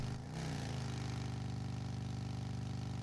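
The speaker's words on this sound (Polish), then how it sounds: "Co to za silnik ja tam znalazłem? Jakaś bestia normalnie." A powerful car engine in the driving game Drive Beyond Horizons drones and revs, a steady throbbing mid-pitched hum after a brief dip at the start, with no talk over it.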